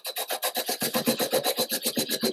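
A rapid, rhythmic rasping and scraping repeats several times per second, close and steady, as a tool cuts into wood spinning on a lathe, slightly off centre.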